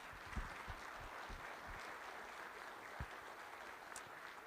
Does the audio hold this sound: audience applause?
yes